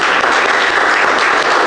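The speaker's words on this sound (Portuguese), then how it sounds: "vamos dar aquela linda salva de palmas, amém?" Church congregation giving Jesus a round of applause in a worship service, dense, loud, continuous clapping from many people with an even texture and no pauses.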